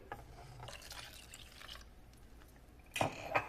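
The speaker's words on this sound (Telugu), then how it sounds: "ఇప్పుడు నేను ఒక కప్పు వాటర్ను కలుపుకుంటున్నాను ఈ పెరుగులో" Faint trickle and drips of a cup of water being poured into a bowl of curd, ending in a brief louder splash and clink.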